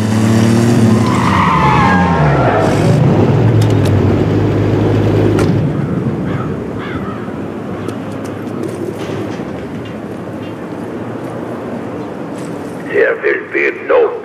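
A tank rolls and skids in a video game, a loud rumbling drive with harmonic engine tones that fades to a lower rolling noise, with short bursts near the end.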